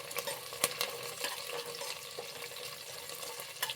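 Onion, curry leaves and dried red chilli fry together in a hot pan for bisibele bath, giving a steady close sizzle with occasional stirring scrapes and clinks and no voices.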